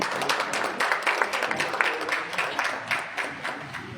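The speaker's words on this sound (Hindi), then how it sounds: "तालियां तो बजा दो" Scattered audience clapping at a Diwali lucky draw in an electronics showroom, a steady patter of many hands that continues for several seconds with crowd murmur underneath.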